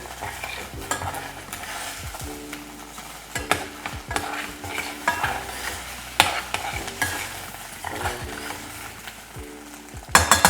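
Scrambled eggs sizzle in a hot pan while a utensil stirs and scrapes them, giving a steady frying hiss broken by repeated clicks and scrapes against the metal, with a sharper clatter near the end and no talking.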